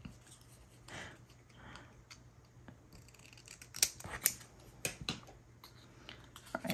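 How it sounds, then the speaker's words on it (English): Scissors cut through card stock for an altered card craft project, giving a few sharp snipping clicks that grow more frequent toward the end, close and fairly quiet over a low background hum. "Would help if I could cut straight"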